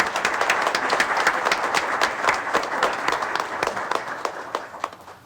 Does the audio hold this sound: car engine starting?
no